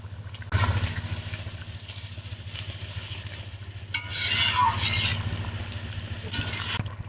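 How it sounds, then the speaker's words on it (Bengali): Fried eggplant pieces go into a simmering hilsa fish curry with potatoes and water in a pan, followed by stirring and scraping with a utensil over a low sizzle, close up and without talk. "এবার দেবো বেগুন ভাজা।"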